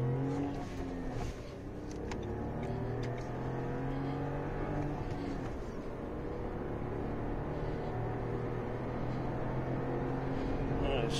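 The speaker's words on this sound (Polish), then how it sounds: "No i będziemy się rozpędzać do setki." A 2021 Renault Clio 1.0 running on factory LPG accelerates hard on a German autostrada, its engine note climbing steadily under constant road and wind roar from inside the cabin.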